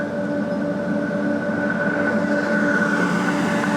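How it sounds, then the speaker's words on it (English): The Indian Pacific long-distance train rumbles steadily past close by at Cook, a continuous heavy roll of wheels on track with a faint hum, holding constant for the whole stretch. "This is a long train."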